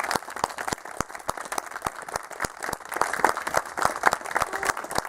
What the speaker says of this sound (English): say a round of applause as the guys will come for Emma Humphries